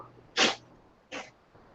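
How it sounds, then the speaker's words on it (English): A cat sneezes while grooming itself after coming in from outside: one sharp, fairly close sneeze, a smaller second sneeze about a second later, then a faint snort against a quiet room. "I can hear him sneezing."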